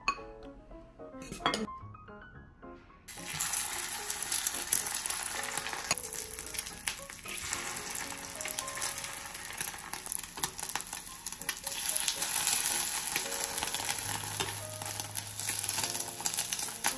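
Food frying in a pan in a small apartment kitchen, a steady sizzle running throughout with occasional clinks of utensils and cookware, close and fairly loud, no talking.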